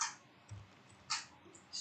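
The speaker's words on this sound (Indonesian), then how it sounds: "Lalu ketikkan speed test seperti ini." A few faint, sparse keystroke clicks on a computer keyboard while typing a search into a web browser, with quiet gaps between the short bursts.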